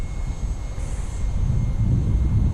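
Electric ducted fan glider, a 6S-powered model launched from the ground, flying past with a steady loud whooshing drone that swells briefly as it passes.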